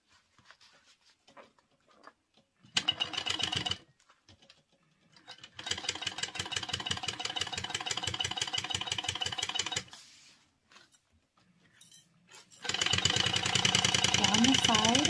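A sewing machine stitches a quilt in several bursts: a short run, then a longer steady stretch of fast, even needle strokes, a pause, and another run, all close and clear, with quiet gaps in between.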